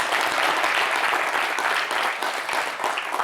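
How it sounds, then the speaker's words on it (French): A studio audience at a French television show claps, a loud continuous burst of applause lasting a few seconds. "applaudissez."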